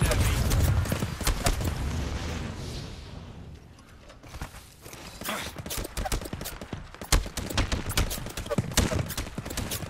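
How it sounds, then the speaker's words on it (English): Gunfire in the Apex Legends video game, with sharp bursts of shots: a dense volley at the start, a brief lull, then scattered and rapid cracks returning over game noise. "Shooting at me."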